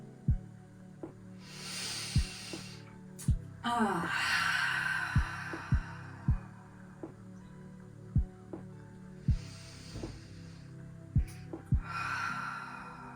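Slow, deep breathing through a closing stretch of a dynamic yoga practice, long airy inhales and exhales heard close over a soft droning background, with regular low thumping pulses underneath.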